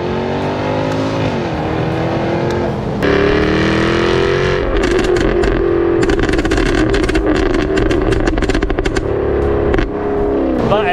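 A Jaguar F-Type V8 in dynamic mode revs hard past 4,000 RPM, its loud factory exhaust roaring close up, then breaking into sharp rapid crackles and pops as the revs climb and fall.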